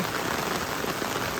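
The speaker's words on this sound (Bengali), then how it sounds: "খুবই সুন্দর বৃষ্টি" Rain falls steadily in a Bangladeshi village, a continuous close wash of drops pattering on surfaces for a brief stretch, with no one talking.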